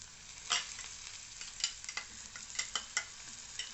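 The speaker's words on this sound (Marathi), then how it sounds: "मिश्रण आपण लाल होईस्तोवर परतून घेऊया। त्याच्यामध्ये ना टोमॅटोची पेस्ट घालून घेऊया।" Onion and green chili mixture with tomato paste frying for chole curry, a soft low sizzle punctuated by repeated clicking spoon strokes against the pan, fairly quiet and close.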